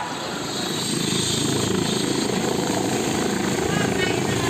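A helicopter's engine and rotors roar up close as it takes off, swelling louder after the first second, then holding a heavy, steady drone.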